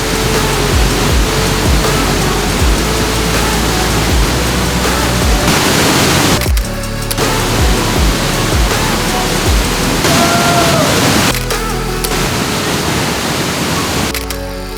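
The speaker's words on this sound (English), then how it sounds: "We have the entire waterfall to ourselves." A waterfall roars loud and steady from close range, broadband rushing that fills the whole clip with brief dips in intensity, no voices audible.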